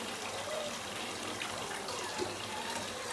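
Running water pours steadily while a six-week-old Aussiedoodle puppy is rinsed off, a continuous broadband hiss with a faint tap-like quality, close and moderately loud, with no clear talk.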